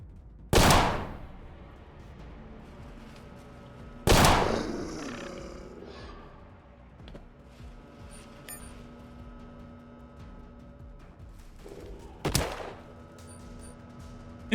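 Three sharp gunshots ring out in the video game Colony Ship, spaced several seconds apart, each loud and sudden with a short decaying tail over a quiet, faintly humming background.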